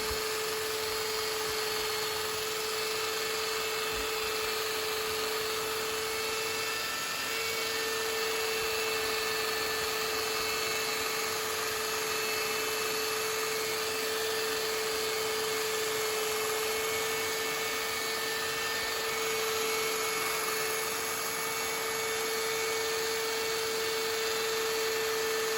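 A mattress cleaning machine agitates a mattress with a steady, close, high-pitched mechanical whine and motor drone that runs unbroken and at even loudness throughout.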